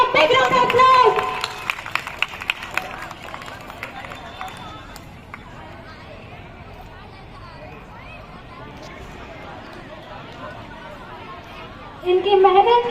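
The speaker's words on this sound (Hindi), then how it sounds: "Please give them a big round of applause." Applause and crowd noise at a school Independence Day prize ceremony for poem recitation winners: a dense burst of clapping in the first few seconds settles into a lower, steady murmur of the crowd. A second loud burst comes at the very end.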